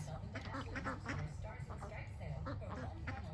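Ducks quack repeatedly in a busy mix, close by and fairly steady, while people talk over them throughout.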